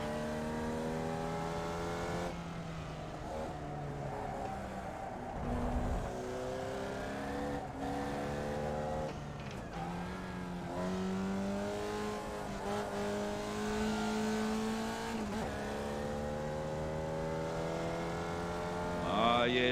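Race car engine in the iRacing sim racing game, a continuous high revving drone that climbs and drops through gear changes, with brief tire noise, loud and steady throughout.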